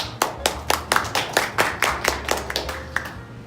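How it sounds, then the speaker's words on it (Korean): Small audience clapping at a forum in a church hall, a sparse group of distinct, fairly close hand claps in an irregular rhythm that thins out toward the end, with no talk over it. "박수로 모시겠습니다"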